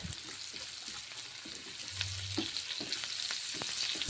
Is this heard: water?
no